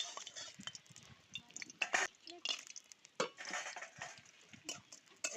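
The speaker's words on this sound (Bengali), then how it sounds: "এই যে পাঁপড় ভাজা শুরু হয়ে গেছে।" Papad frying in mustard oil in a kadai, with soft crackling and a few sharp clinks of utensils against the pan, fairly close and not loud.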